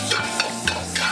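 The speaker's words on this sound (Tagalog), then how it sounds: "Gigisa tayo ng bawang." Garlic sautéing in a little oil for pinakbet: an even hiss of sizzling with a few regular scrapes of a utensil stirring the pan, close and moderately loud with no voices.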